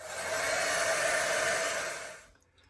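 Heat gun blowing hot air over paint on a handmade Halloween journal, a loud steady whooshing roar held close for about two seconds, then winding down and cutting off.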